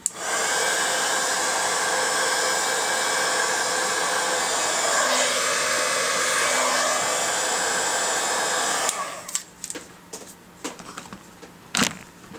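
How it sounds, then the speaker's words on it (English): A heat tool blows hot air over a craft project in a steady, loud, close whoosh for most of the stretch, then cuts off, leaving scattered handling clicks and taps. "if you do it too long with the heat tool, this will start to bubble"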